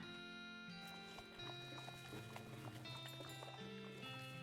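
Hooves clip-clop steadily from a horse in the West of Loathing video game, light rhythmic taps over a soft looping music bed, with no other sounds on top.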